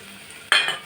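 Fried peanuts tipped into a pan of oil with onion and chili: a quiet low background, then a sudden loud burst of sizzling with a scrape that gradually settles.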